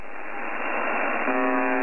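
Steady buzzer tone of a radio transmission, a continuous harsh hiss-like drone that stays level, with a tonal stripe emerging near the end; no voices are distinguishable.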